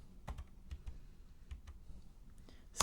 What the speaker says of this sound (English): We begin by typing int